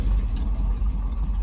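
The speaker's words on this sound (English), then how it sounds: "We're gonna take it for a quick test drive and see if the brakes work." A Chevrolet C60 truck pulls away on a brake test drive, its engine a steady low rumble throughout with a faint hiss on top and nobody speaking.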